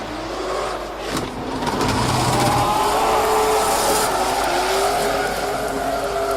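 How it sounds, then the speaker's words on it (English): A race car engine at full throttle during a motorsport round screams loudly and continuously as it accelerates, its pitch climbing and holding, with a brief dip near the start. "Now Haydem's putting foot to the floor."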